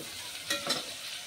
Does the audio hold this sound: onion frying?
yes